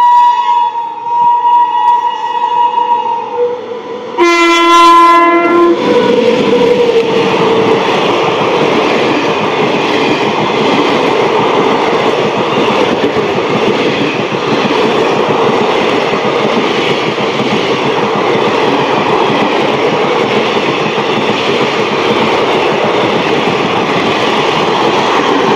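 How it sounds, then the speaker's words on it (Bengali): A Sealdah–New Alipurduar Teesta Torsa Express hauled by a WAP7 electric locomotive blows a loud, multi-tone horn for about five seconds, then thunders past close by with a long, continuous roar and rhythmic wheel clatter. "13141 Sealdah new Alipurduar Teesta Torsa express Sealdah শেডে WP7 নিয়ে দুর্দান্ত হংকিং"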